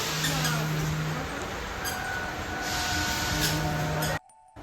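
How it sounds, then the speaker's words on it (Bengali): A train pulls into a railway station in the rain. A loud sustained wash of train noise and rainfall with faint tonal squeals cuts off abruptly near the end. "ট্রেন আজ ঠিক রাইট টাইমেই চলে এসছে"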